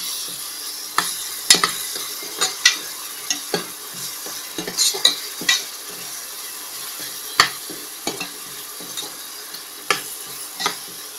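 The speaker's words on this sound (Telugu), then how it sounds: "ఇప్పుడు దీంట్లో ముందుగా సిద్ధం చేసుకున్న పచ్చిమిరపకాయల పేస్ట్ను కూడా వేసి కలుపుతూ తిప్పాలి" Green chili paste fries in a pan as a spoon stirs it, giving a steady soft sizzle broken by repeated sharp scraping clicks against the metal, with no voices.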